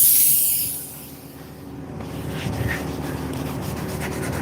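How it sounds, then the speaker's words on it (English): A steam cleaner hisses steadily while steaming the interior of a Toyota Highlander, starting with a loud sharp burst of steam that settles into a continuous, rougher hiss with faint scrubbing noise. "And we're going to steam all this really well."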